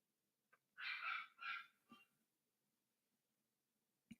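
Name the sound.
small puppy yapping outside the studio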